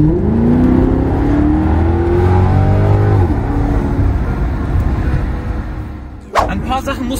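A Maserati GranCabrio MC's engine revs up and then falls in pitch through downshifts, a loud rising and falling note from inside the car, ending in a sharp burst of noise near the close while voices talk in the cabin.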